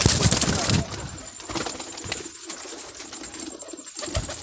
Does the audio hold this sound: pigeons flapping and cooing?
yes